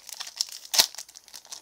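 A Yu-Gi-Oh Battle Pack 2 booster pack wrapper crinkles and tears open up close, a continuous burst of foil crackling with a louder rip in the middle.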